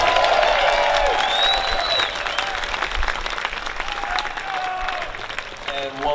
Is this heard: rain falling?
no